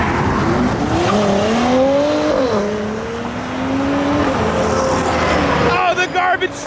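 Nissan 300ZX does a burnout at a car show, a loud, close, sustained tire squeal with a revving engine whose pitch rises and falls, before voices break in at the end.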